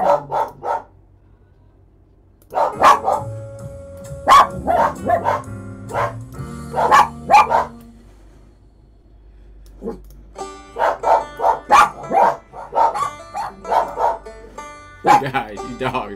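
Several dogs bark in bursts of loud, close yips and woofs, with pauses between flurries and a voice talking over them.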